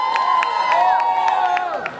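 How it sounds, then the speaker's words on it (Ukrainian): At a town day festival, an outdoor crowd cheers and claps in a steady, dense wash of voices and hand claps, loud and continuous for the full couple of seconds. "Аплодуємо, аплодуємо."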